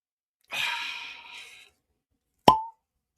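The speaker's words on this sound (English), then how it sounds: "Ooh, nice little cork pop on that." A cork pops from a bottle of Glen whisky: one sharp, close pop after a soft breathy exhale, with no talking.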